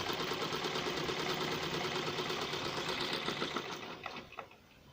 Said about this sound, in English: Okay, I'll just sew it round, just the way you are doing one face bonnet.